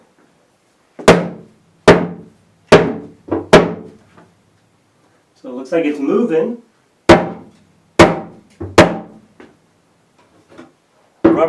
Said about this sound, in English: Rubber mallet doesn't work very well.